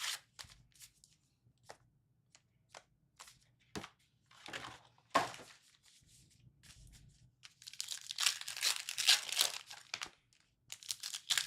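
Foil wrappers on 2025 Topps Heritage High Number baseball card packs are torn open and crinkled close by, with sharp isolated rips at first and then a dense burst of crackling plastic toward the end.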